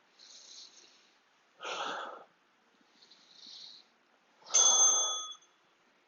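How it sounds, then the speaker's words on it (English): Heavy breathing during a TRX mobility and recovery workout: four audible breaths alternate between soft airy inhales and stronger, rougher exhales, with brief quiet gaps between. "So you can probably hear my breathing in this."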